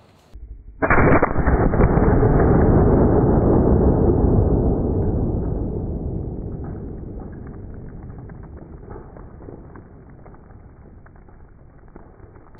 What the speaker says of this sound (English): operation remove ballistic dummy head with one shot